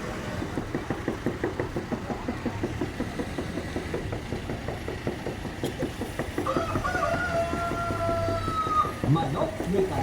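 A rooster and chickens cluck intermittently in an outdoor setting, fairly faint beneath an idling engine and people talking, with a brief higher call near the end.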